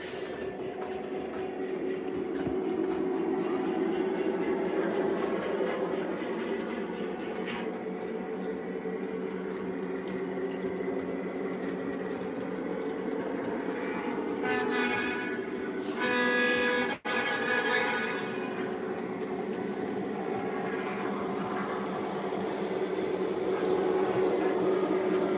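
Lionel and MTH model trains run on a layout with a continuous hum and rumble of motors and wheels, steady at a moderate, close level, with a sharp click partway through and brief brighter clatter around it.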